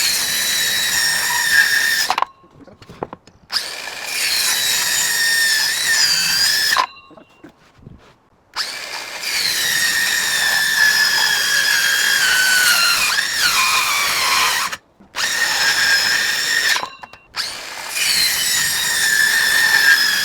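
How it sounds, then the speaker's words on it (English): Circular saw cutting wooden boards to length during a bathroom renovation, several loud high-pitched whining cuts of a few seconds each, separated by brief silent pauses. "You can do it with a circular saw."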